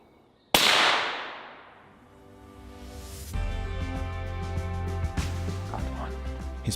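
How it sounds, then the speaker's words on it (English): A single rifle shot fired while stalking a young muntjac buck through dense undergrowth, a sharp loud crack followed by a long decaying echo, then outdoor ambience with faint birdsong. "Frederic makes a perfect shot for his second of the morning"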